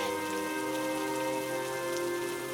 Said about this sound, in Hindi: बारिश अब भी बाहर बरस रही थी